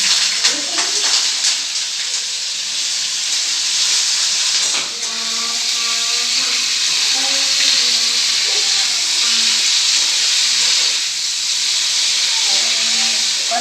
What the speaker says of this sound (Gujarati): હવે આપણે પનીર થોડુંક ગરમ કરીને તેલમાં થોડું ગોળું કરી લઈએ